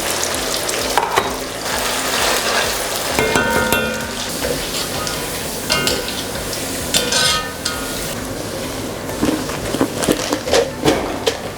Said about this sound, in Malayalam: സവാള നമുക്ക് ഫ്രൈ ചെയ്യാം.